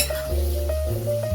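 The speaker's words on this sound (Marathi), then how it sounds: "थोडं टोमॅटो शिजवूया. गॅसची फ्लेम फास्टच ठेवायची." Tomatoes frying in a pan over a high gas flame, a steady close sizzle with a scraping stir and faint clinks of a utensil against the pan.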